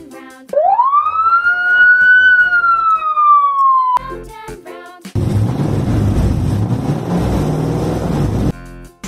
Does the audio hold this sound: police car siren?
yes